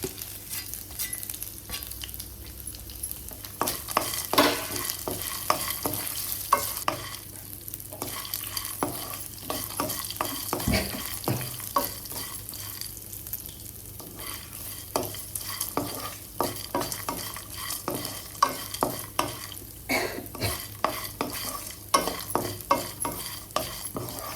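Cashew nuts and peanuts fry with curry leaves and red and green chillies in a pan, a continuous close sizzle broken by frequent clattering stirs of a spoon.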